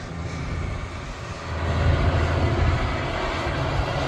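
A farm tractor runs while feeding round bales, a steady low engine drone close by that swells slightly partway through, with no talking.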